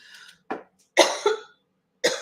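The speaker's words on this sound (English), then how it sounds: "I'm gonna start coughing." Three or four sharp coughs, close and loud, separated by short silent gaps.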